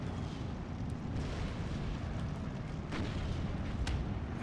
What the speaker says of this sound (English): we're getting hit with artillery on our PaK-40